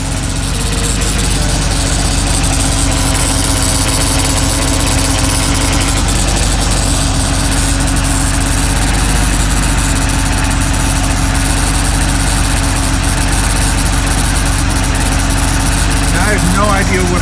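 Engine of a Porsche 964 running rough, a steady loud idle with an uneven, vibrating low drone throughout, a voice talking over it.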